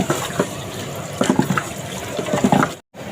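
Water poured into a pot for masala rice, a continuous close splashing flow with small bumps of pot contact, cutting off abruptly near the end.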